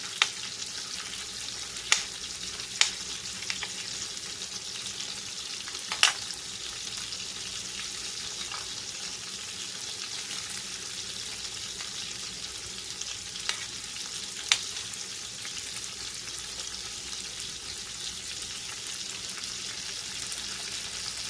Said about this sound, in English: So I'm just going to throw in my onion.